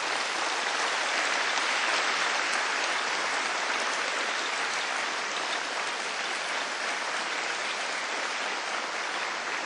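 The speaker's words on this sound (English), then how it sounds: "So please rise, turn backward, and applaud to those who accompanied you throughout this journey." A large graduation crowd at a medical school ceremony applauds in a dense, loud, continuous wash of clapping that holds steady for around ten seconds, with no voices standing out.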